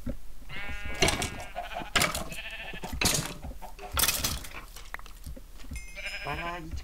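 Sheep bleating in the video game Minecraft, several short bleats repeating close and clear over a steady game background.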